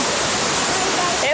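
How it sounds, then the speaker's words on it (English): The Gully Washer waterfall roars as a continuous broadband rush of falling water, loud and steady throughout the short moment. "Look at that waterfall over there."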